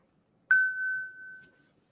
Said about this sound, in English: There's my watch telling me about the open bell